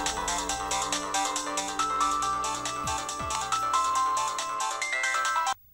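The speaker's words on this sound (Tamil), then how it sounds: "உனக்கு தான் ஃபோன் ஆஃபீஸ்ல இருந்து." A phone ringtone plays a repeating electronic melody in a room, loud and close, for several seconds before cutting off abruptly.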